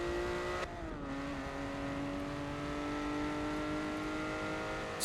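A Ferrari 512 race car engine drones steadily in Forza at Sebring International Raceway, a loud sustained tone that briefly dips and shifts pitch as if changing gear, then holds a high, even whine with no talking.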